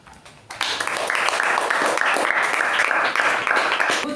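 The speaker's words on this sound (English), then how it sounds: "Huge round of applause." Audience applause at a youth leadership meeting after a speaker finishes, clapping that breaks out abruptly after a brief quiet moment and continues as a lively, uneven round from a roomful of people.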